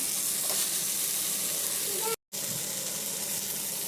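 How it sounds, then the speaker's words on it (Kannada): Onion and tomato fry with masala in a pan for a chickpea curry, giving a steady close sizzle that cuts out briefly partway through, with no talk. "ಸ್ವಲ್ಪ ಟೊಮೊಟೊ ಫ್ರೈ ಆಗಿದೆ ಈಗ ಮಸಾಲೆ ಆ್ಯಡ್ ಮಾಡ್ಕೊಳ್ಳೋಣ"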